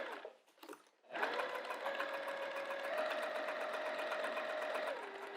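A sewing machine runs in one steady continuous stitching burst, close and alone, while topstitching a zipper pouch just outside a previous seam, after a few brief rustles at the start.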